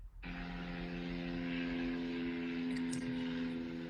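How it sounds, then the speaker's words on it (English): A propeller airplane drones overhead during an outdoor yoga class, its steady engine hum rising abruptly and holding loud and constant for several seconds. "As you hear the airplane, then you'll fold down."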